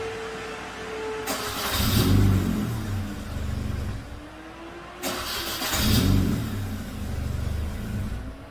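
Engine of a 2005 Mini Cooper with an intermittent no-crank fault, starting twice with a whir and catch, then revving up and settling into a steady idle each time, close and fairly loud with no talking.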